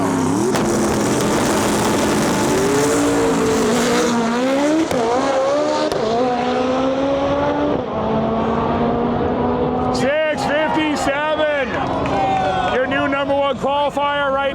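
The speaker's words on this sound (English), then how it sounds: "Nick Coleman pulling up the line here in our lane, the fastest stick shift vehicle in the world" A stick shift drag racing car at the World Cup Finals 2025 qualifying roars loudly and continuously as it launches down the lane, its engine note rising through gear changes, with an announcer talking over it throughout.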